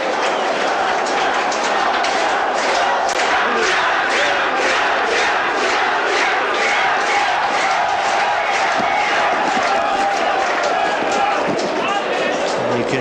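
A large crowd at Olympic Park roars continuously during a 1994/95 National Soccer League match between South Melbourne and Melbourne Knights, loud and dense for the whole stretch, with a commentator talking over it.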